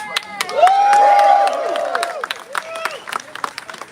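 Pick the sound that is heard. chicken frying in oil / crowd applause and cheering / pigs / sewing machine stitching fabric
crowd applause and cheering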